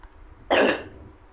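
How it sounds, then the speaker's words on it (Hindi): A single short, harsh cough or throat clear, close and abrupt, standing out against quiet background. "थोड़ा सा आपकी खांसी आ रही होगी उसके लिए माफ़ करना"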